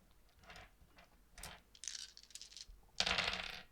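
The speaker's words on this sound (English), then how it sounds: "I love the sound of dice rolling." Dice rolling across a table during a Curseborne tabletop game, several clattering bursts, with a louder, denser tumble near the end, close and fairly quiet.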